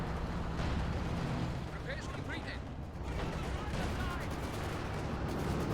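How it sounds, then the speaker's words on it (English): An anti-tank gun fires in Company of Heroes 2, its heavy booming hits buried in a loud, unbroken din of battle with low rumbling and scattered blasts. "Takes a couple of huge hits from the AT gun."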